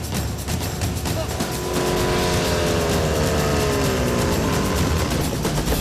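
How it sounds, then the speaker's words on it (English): A scrap-built fire pump engine revs hard to push water through two hoses, giving a loud, sustained mechanical roar that climbs in pitch partway through. "They've got to really gun that pump engine if they want enough pressure to drive 2 hoses."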